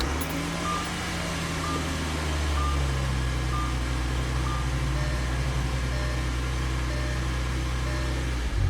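An Audi A6 engine idles with its fuel pump fuse pulled, a steady close low drone with a faint periodic beep, running evenly before cutting out right at the end.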